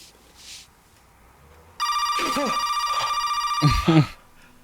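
A telephone ringing in a TV drama scene: a sharp, bright electronic ring starts abruptly after a quiet, dialogue-free stretch and sounds steadily, with a voice briefly heard over it near the end.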